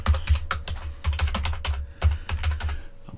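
Steady typing on a computer keyboard while filling out a web form, close crisp key clicks in quick irregular runs with brief pauses, no voice over it.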